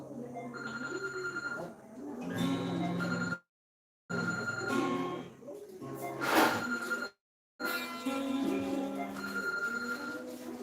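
A mobile phone alarm ringtone plays a loud, melodic electronic ring in repeated bursts, cut by two short silent gaps, with voices talking faintly underneath.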